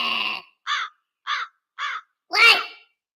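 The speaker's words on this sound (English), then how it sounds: "Damn crows." Crows caw in four separate harsh calls, a short run spaced about half a second apart, with the last call the loudest and longest, heard clearly with no talk.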